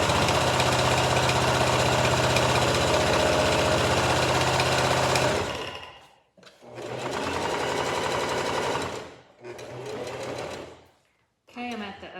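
A sewing machine stitches a pillow case in a steady loud mechanical whir, running continuously for several seconds, then pausing and starting again in two shorter bursts with brief silences between.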